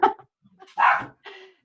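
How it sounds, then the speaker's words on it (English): A dog barks a few times nearby, short yips and one fuller bark in quick succession, moderately loud with no talk. "I'm sorry, that's a dog."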